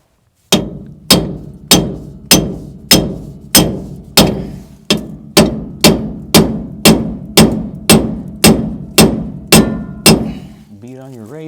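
A hammer beats on a bearing race of a Chevy 12 bolt axle: about sixteen loud, ringing metallic strikes, closely miked and evenly spaced in a steady rhythm, followed by a brief scrape at the end.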